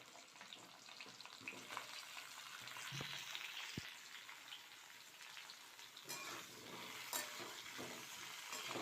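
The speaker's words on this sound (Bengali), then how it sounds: "তেল দিয়ে দিয়েছি কড়াই। এখানে কিছু গোটা গোটা মশলা দিয়ে দেবো ফোড়নে" Whole spices sizzle in hot oil in a wok, a steady close crackle with occasional spoon clinks and sharp pops.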